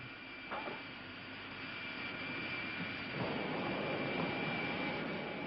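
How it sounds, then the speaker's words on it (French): Jet engines of a huge B-52 bomber spooling up at startup, a steady broadband roar with a faint high whine, close and continuous, with a few dull clunks and a swelling rush partway through. "on peut mettre en route les 8 réacteurs de l'énorme B-52"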